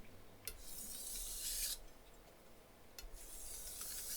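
Knife blade rubbed across a cheap $20 whetstone in two long rasping strokes, each a gritty scrape of about a second with a quiet pause between, close and fairly soft over low room noise.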